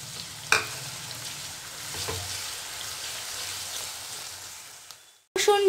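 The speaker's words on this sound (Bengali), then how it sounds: "পেঁয়াজটা একটু ভাজা হয়ে এলে আমি তাতে আদা রসুন বাটাটা দিয়ে দেব।" Onion sizzling in hot oil in a pan for a prawn malai curry, a soft steady fry with occasional stirring clinks, ending in a brief louder burst of sizzle as ginger-garlic paste goes in.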